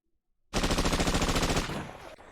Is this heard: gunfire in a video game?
yes